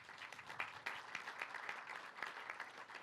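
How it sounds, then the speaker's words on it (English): A crowd at an outdoor baseball field unveiling applauds, faint and somewhat distant, a steady patter of many hands with a few louder individual claps. "Let's give them a round of applause."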